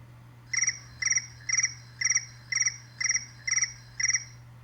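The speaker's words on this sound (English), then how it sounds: "The crickets sang in the grasses." A cricket chirps in a steady rhythm, eight evenly spaced trilling pulses over a low constant hum, close and clear.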